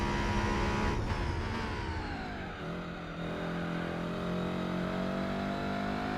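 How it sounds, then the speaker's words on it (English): A Ford Ka's engine drones loudly and steadily at Tsukuba circuit in the video game Gran Turismo 4, its pitch dipping then climbing again as it revs, with no voices. "Car sounds better when you look back."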